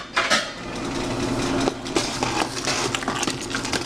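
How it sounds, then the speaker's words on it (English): Hallertau aroma hops are stirred into boiling beer wort in a pot, with a metal spoon scraping and clinking against the pot sides in irregular strokes over a steady boil. "Let's add those in here into the boil. Stir them in a little bit."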